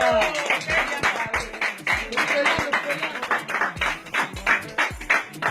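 An audience claps for the performers at a welcome event in Montreal. Clapping comes as dense, rhythmic, close hand claps under lively chatter and background music, with some people talking.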